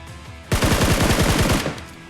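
An automatic weapon in the PUBG Mobile video game fires a single rapid burst of about a dozen loud rounds lasting just over a second, with no talking over it.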